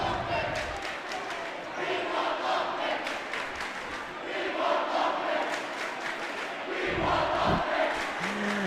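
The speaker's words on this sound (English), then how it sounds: "Now the Saints crowd chanting that they want to see the junior Joe Loafman come into the game." Saints fans chanting together at a high school boys basketball game between Aquinas and Rockhurst, a steady crowd roar that swells and pulses in the gym.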